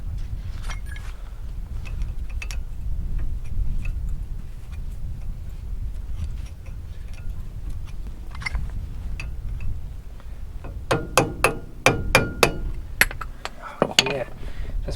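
A chisel is struck against a greasy truck wheel hub, producing a quick cluster of sharp metallic clinks and taps near the end. Before that come softer handling noises and some rumble.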